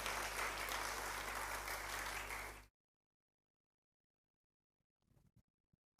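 A church audience at an evening sermon claps loudly to welcome a guest speaker, a thick burst of applause that cuts off abruptly into silence, followed by a few faint, brief sounds.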